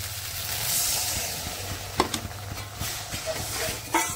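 Water poured into a pan of sizzling, oil-separated spice paste for Bengali egg curry gives a steady frying hiss with soft bubbling and a few sharp spits and crackles, close and moderately quiet.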